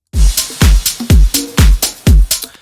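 Drum beat loop at 130 BPM played back in Bitwig Studio: punchy kick and snare hits repeating in a steady, evenly spaced pattern, loud and clean, with no talking.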